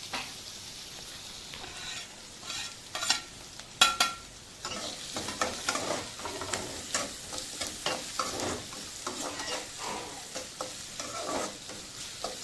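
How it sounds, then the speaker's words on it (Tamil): Onions with curry leaves and chillies sautéing in a pan for a carrot and beans stir-fry, soft sizzling under repeated scraping, clattering strokes of a spatula in an uneven rhythm. "ஒரு 5 நிமிஷம் ஆகும் வெங்காயம் வதங்கிறதுக்கு."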